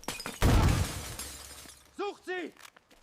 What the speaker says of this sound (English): one last diversion with a crashing clay pot.